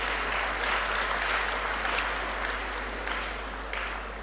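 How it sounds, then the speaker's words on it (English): An audience at an inaugural lecture applauds the chairperson, a steady, even wash of many hands clapping that holds throughout at moderate loudness, with a low constant hum beneath. "Let's give her another round of applause."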